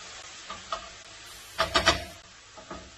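Flavoured seitan hits a hot pan to brown, with a short burst of sizzling and a few faint scraping stirs around it, close and fairly quiet, with no talking over it.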